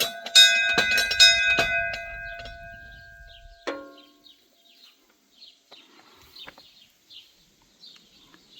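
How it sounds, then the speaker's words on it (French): A chapel bell at the ruined Saint-Barthélemy pilgrimage site, rung by hand: several loud, close, ringing strikes in quick succession that decay into quiet, with faint birdsong continuing afterwards. "Pèlerin, sonne cette cloche pour célébrer ton passage en ce lieu."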